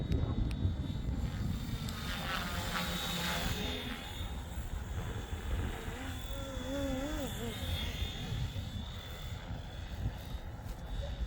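Flywing FW450 RC helicopter flying at full speed, a continuous buzzing rotor and motor whine with pitch swells as it maneuvers, while a person talks over it.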